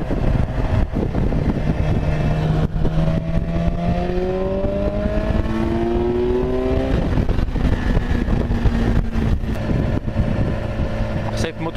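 A motorcycle engine drones and rises in pitch as it accelerates through gears, with wind buffeting throughout and a voice talking over it.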